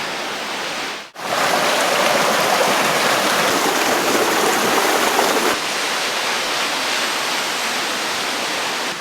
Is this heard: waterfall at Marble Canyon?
yes